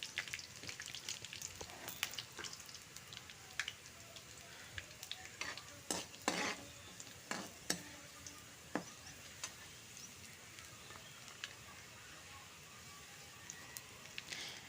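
Lemon pickle is sautéed in a pan with a continuous quiet sizzle, and a spoon scrapes and clinks against the pan in scattered sharp taps. It is close but faint, with no talking.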